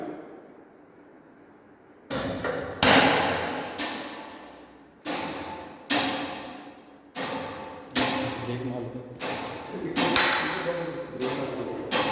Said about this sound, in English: So we make the hammer strike at the specimen, deform it